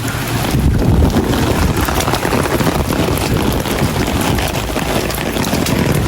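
Strong wind buffets the microphone in a constant loud roar, with gusty rumbling and no voices.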